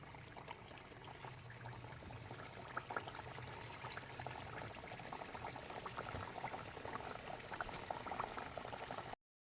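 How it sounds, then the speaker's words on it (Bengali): Steady bubbling sizzle of semolina cakes frying in hot oil, continuous and close, with small pops and crackles throughout and no voices. "এবার আমি এই তেলের মধ্যে এক এক করে ছেড়ে দেবো"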